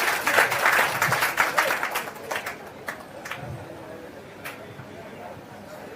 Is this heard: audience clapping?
yes